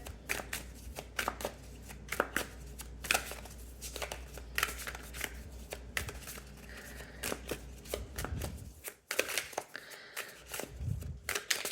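Tarot cards are shuffled by hand in quick, repeated riffling bursts close up, a brisk papery rhythm with a short pause near the end.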